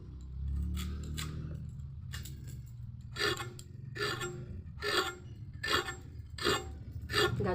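Carrot skin being scraped with a peeler or knife before cooking a vegetarian cabbage curry, giving a run of close, rhythmic rasping strokes, about six distinct scrapes in the later part after a low rumbling start.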